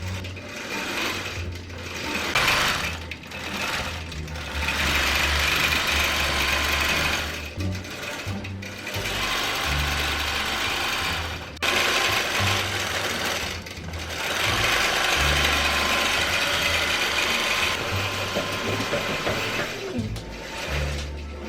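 A longarm quilting machine stitches a quilt top of printed cotton fabric, giving a steady, close motor whir with a pulsing needle rhythm that stops briefly several times before resuming.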